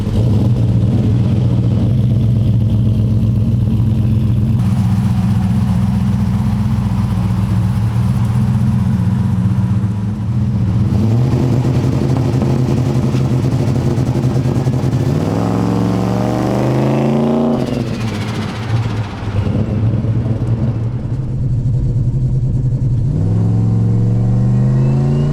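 Car engine with no nitrous held on two-step launch control, a loud steady bark and rev at the limiter that dips and climbs again, close and continuous throughout.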